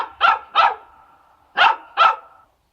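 A dog barks four times as a sound effect in an Aesop fable audiobook, two sharp barks, a short pause, then two more, loud and close and clear of any narration.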